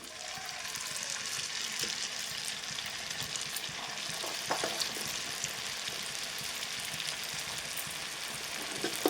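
Gavvalu, a small fried dough snack, sizzle steadily in hot oil at home, a dense continuous crackle with brief stirring knocks and a few sharper pops midway, close and moderately loud.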